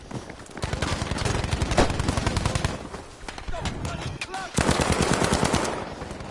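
Dense, continuous automatic gunfire and rapid shots from the video game Battlefield 5, loud and sustained throughout, with a voice talking over it.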